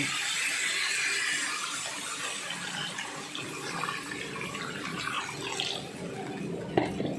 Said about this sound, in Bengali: এবারে আমি আন্দাজ মতো জল দিয়ে দিচ্ছি